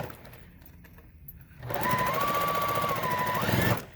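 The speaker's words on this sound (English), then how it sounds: "So I'm going to sew that one together first." A sewing machine stitches a quarter-inch seam on a quilt block, starting after a quiet moment with a fast, even mechanical whir that holds for about two seconds before stopping, close and clear.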